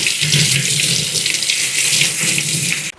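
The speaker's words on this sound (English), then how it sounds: "we're going to start off by rinsing them in cold water just to get any visible dirt off" Sweet potatoes being rinsed under cold running tap water to remove dirt: a steady, close splashing stream into a sink that stops abruptly just before the end.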